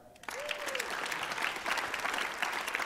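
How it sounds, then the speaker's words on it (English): An audience claps for performers at a live comedy or stage show, steady broadband applause starting abruptly after a brief tone and holding loud and even, with a faint voice at the start. "Okay, why don't we give them a clap?"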